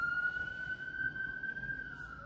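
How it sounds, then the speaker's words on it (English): A distant siren holds a steady high wail over a low background rumble, faint but continuous throughout. "A lot of sirens."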